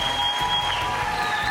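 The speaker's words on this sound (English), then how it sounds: "Let's give them a big round of applause." Audience applause for guests Jerry and Amy Ross at a space fashion show event, a steady, moderately loud clapping with a faint sustained tone running beneath it.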